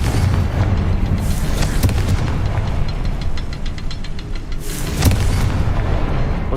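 A Confringo spell explodes in Hogwarts Legacy with a loud, heavy boom, followed by deep, sustained rumbling and a second burst toward the end.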